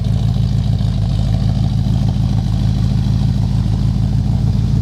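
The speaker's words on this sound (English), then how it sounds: "You can also hear the engine idle." A 1971 Plymouth Roadrunner's 383 four-barrel V8 idles steadily nearby, a loud, even low rumble with a regular lumpy pulse and no revving, alone without voices.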